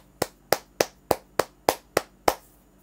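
One person clapping slowly and steadily, eight crisp, close, evenly spaced claps with short decays and no talk.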